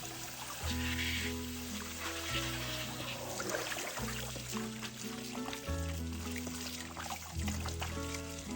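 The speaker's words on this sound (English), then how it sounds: "wash the Chinese chives and remove any dirt from the surface" Water pours and trickles steadily while Chinese chives are washed in a kitchen, a continuous soft splashing flow heard under background music.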